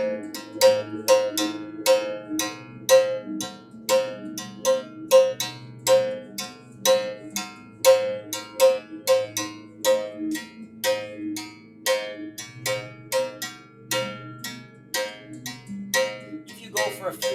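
Bright metallic percussion strikes, cowbell-like, play a swingy Miugio rhythm variation in a steady, loud, evenly repeating pattern with a lower sustained tone beneath, heard alone with no talk.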